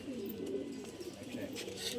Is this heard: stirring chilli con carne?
no